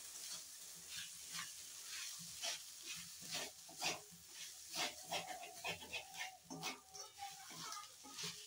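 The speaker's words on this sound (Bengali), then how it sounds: "সুন্দর করে কিন্তু চালটাকে আমি দিয়ে ভেজে নিয়েছি" Rice frying and being stirred in a pan, giving a steady sizzle broken by repeated scraping strokes, close and fairly loud, with a voice speaking faintly at moments.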